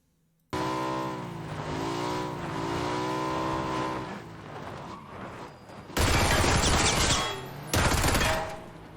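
Bursts of rapid Uzi fire in an online shooter game ring out loud and close, following a stretch of steady engine-like drone with shifting pitch.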